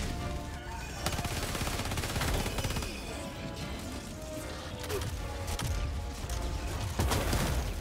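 Automatic weapon fire in Helldivers 2, dense rapid bursts of shots continuing throughout at steady loudness, with a few sharper louder cracks standing out.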